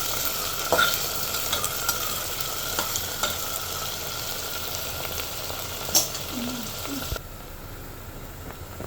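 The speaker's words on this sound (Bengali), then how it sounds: "আমি এখানে পেঁয়াজটা ভালোভাবে নাড়ায় চাড়ায় ভাজে নেব" Onions fry with a steady sizzle in a pan while being stirred, a constant crackling hiss with occasional scrapes and knocks, ending in a quieter stretch.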